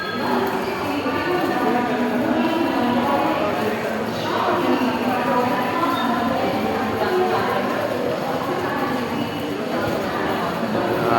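Rhythmic rattle and clatter of a passenger train carriage bound for Goa, steady wheels clacking on rails with a continuous roar throughout, while people talk inside the car.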